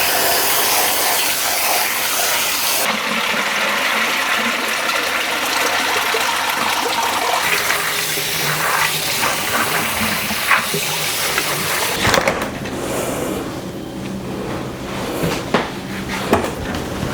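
Soaked dry beans are rinsed and drained at home before canning, giving a steady gush of running water for about twelve seconds that then thins to trickles with light clatters and knocks.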